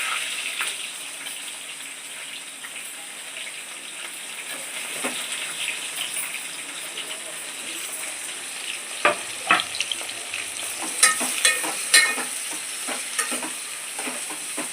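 Onion, green chilies and curry leaves fry with mustard seeds in hot oil, a steady close sizzle with occasional stirring scrapes and a few sharper crackles and clinks toward the end.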